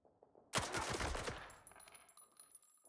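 Sudden burst of video game gunfire from several weapons, a loud rapid volley that erupts and rattles for about a second, then trails off into fainter shots and ringing tones.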